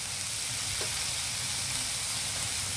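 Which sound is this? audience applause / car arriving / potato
potato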